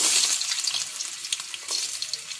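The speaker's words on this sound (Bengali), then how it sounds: "আলুটাকে 2-4 মিনিট ভেজে নেব।" A whole potato frying in hot oil with cumin seeds, a loud close crackling sizzle with bright spitting pops throughout, no talk.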